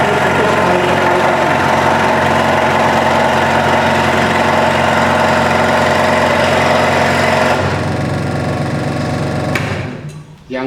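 A scroll saw cuts a wood workpiece along a straight pattern line in a woodworking lesson, giving a steady close-up motor buzz with rapid blade chatter that shifts tone near the end and then stops.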